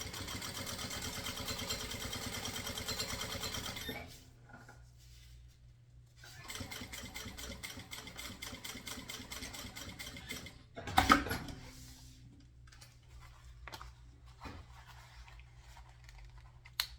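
A sewing machine stitching a fabric bucket bag, running in steady rapid bursts of several seconds separated by quiet pauses, close and clear, with a brief louder clatter near the middle.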